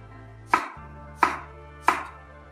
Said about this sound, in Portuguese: E agora vamos preparar os pepinos. Vamos cortar as pontas primeiro. E vamos cortar assim, na diagonal.